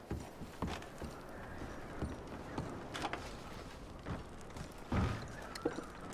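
In the video game Red Dead Redemption 2, horse hooves clop in an uneven walking rhythm over a low background hum, with a heavier thump near the end.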